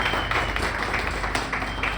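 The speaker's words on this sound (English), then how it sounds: "Let's give her a big round of applause." A short burst of audience applause rises at the inaugural ride ceremony for the Dorothy Day Staten Island Ferry, steady close clapping from a small crowd for about two seconds.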